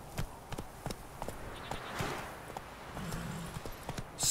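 Horse hooves clip-clop steadily at a riding pace in a video game, a rhythmic series of moderately close thuds over a soft ambient background, with no talk.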